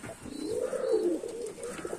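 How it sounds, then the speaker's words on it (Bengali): A male pigeon coos once, a low rolling call lasting about a second, heard close and fairly quiet over a soft background hiss, without any speech. "আপনি দেখতে পাচ্ছেন যে এই নরটি কি পরিমাণ ডাকতেছে"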